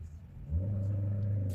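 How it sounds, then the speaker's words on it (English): A car with a loud muffler rumbles low, then swells into a deep, steady revving drone that stays heavy and close, with a faint click near the end. "Why do people have loud mufflers?"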